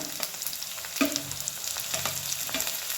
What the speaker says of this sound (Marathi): मिक्स करून भाजूया चांगला टोमॅटो कांदा